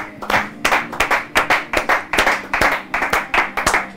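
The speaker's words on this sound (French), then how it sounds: "Est-ce que vous pouvez acclamer pour vous-même?" A congregation at an open-air church service claps in a steady, rhythmic beat, loud and close, with no talking over it.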